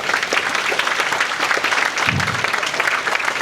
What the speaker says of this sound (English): Big round of applause for Steve, please.